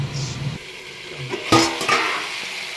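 Marinated chicken added to well-browned onions in a pan produces a soft sizzle with metal utensil clatter and a burst of louder scraping and stirring midway, close by.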